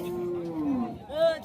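A cow lows briefly at a busy cattle market, a short drawn-out moo rising and falling near the listener, with a vendor's voice talking over and around it.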